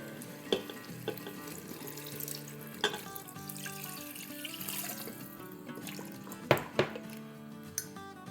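About 3.5 cups of water pour into an Instant Pot pressure cooker holding nihari paya, a quiet steady trickle broken by a few small clinks and splashes, with no talking.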